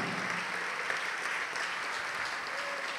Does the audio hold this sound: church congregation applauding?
yes